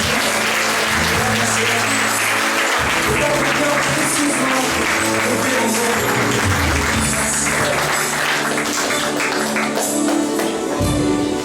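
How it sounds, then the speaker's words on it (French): A church congregation in Réunion applauds in a long, dense, continuous wave of clapping over music, loud and sustained throughout. "Applaudissez le Seigneur."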